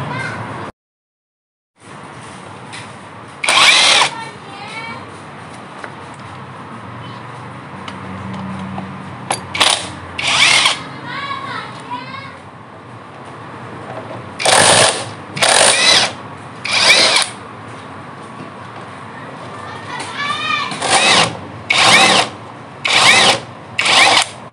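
Monake cordless battery impact wrench, 330 Nm, fitted with an 8 mm socket, firing in repeated short bursts of rattling hammering with gaps between, loud and close, no one talking.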